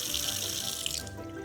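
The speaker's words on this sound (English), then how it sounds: "we gotta turn on our faucet. We gotta fill up our cup so we can get 1 cup of water." Water from a kitchen faucet running steadily into a measuring cup, with a close, continuous hissing splash and the pitch shifting slightly as the cup fills.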